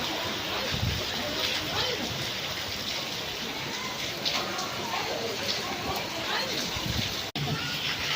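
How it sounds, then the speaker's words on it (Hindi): Rain pours down steadily outside, a loud, unbroken wash of falling water and splashing that fills the whole stretch, with a voice speaking over it. "देखिए आज बारिश हो रहा है, स्टार्ट हो गया।"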